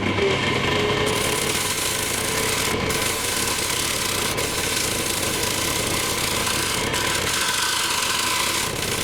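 A steady mechanical whir of a wood lathe runs throughout, with faint scraping and rubbing as a tool works the spinning wood; no talk.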